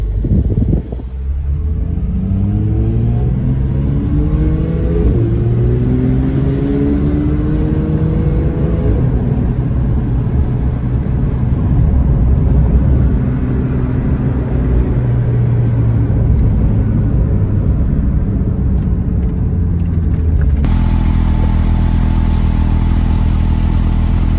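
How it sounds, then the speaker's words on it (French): Police-escorted rally of Porsche cars in Mauritius: a steady, loud blend of engine rumble and rising, falling revs as cars pass continuously, with a brief break in tone near the end. "Bonne brochette de Porsche."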